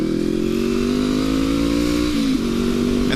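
A Honda CB500X motorcycle is ridden along a road between Oregon and Montana, its engine droning steadily and close by, with a slight dip in pitch near the end as if easing off the throttle.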